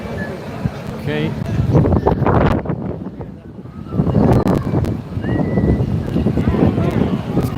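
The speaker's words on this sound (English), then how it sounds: "It's quite windy today" Gusty wind buffets the microphone at an outdoor carnival in Malta, rumbling in uneven surges under ongoing talk and faint crowd noise.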